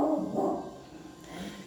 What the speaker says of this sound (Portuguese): Porque a cachorra late?